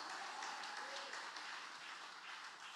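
A church congregation clapping hands together during a worship service, a steady continuous patter of many hands at a moderate distance, fairly quiet and even throughout.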